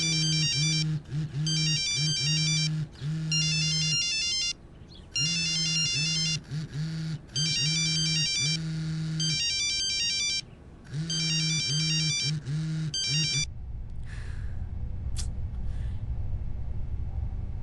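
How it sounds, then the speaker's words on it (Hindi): A mobile ringtone plays in repeated melodic bursts with short gaps, then stops, leaving a low rumbling background. "फोन क्यों नहीं उठा रहा है?"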